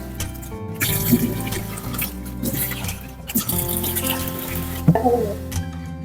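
Tap water runs and drips into a kitchen sink while fish is rinsed by hand, a steady close-up flow broken by splashes and clatter, with no talking.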